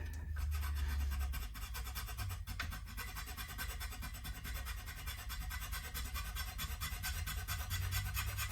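A file rasps steadily at a PRS SE electric guitar during a pickup change, making a continuous, even scraping with a fine rhythmic texture and no talk.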